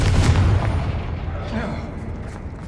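A Confringo fire spell blasts in Hogwarts Legacy, a loud booming explosion at the start that rumbles and fades over a couple of seconds.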